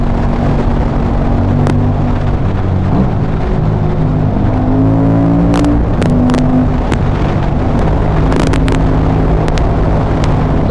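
A 2005 KTM 950 SM supermoto engine under riding load, loud and close, with rising and falling revs as the throttle opens and shifts, plus sharp wind buffets over the continuous engine roar; no talk.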